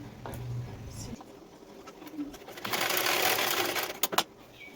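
A sewing machine stitches the front pieces of a size 30 blouse together in one steady run of whirring after quieter handling noises, with a bird cooing faintly in the background.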